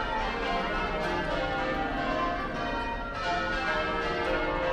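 Dense, ringing tones of Southwark Cathedral's church bells chiming continuously, loud and steady, filling the space with overlapping resonant peals.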